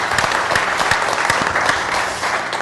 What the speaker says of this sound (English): One more round of applause is for Paul Collette